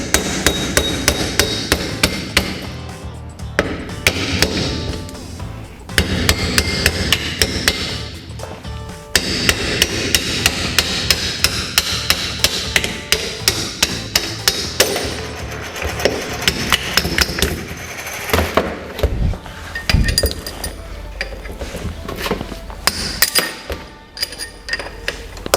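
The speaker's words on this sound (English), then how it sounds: "so we'll just pop it up with a hammer" A hammer strikes a car differential again and again to knock a part out during an LSD conversion, with sharp metallic blows coming in rapid bursts and short pauses between them.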